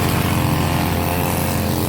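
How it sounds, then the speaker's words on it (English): A weed whacker cutting grass in a neighborhood in Valencia, Philippines, its small engine buzzing loud and steady at close range without pause. "This is how they cut grass in the Philippines."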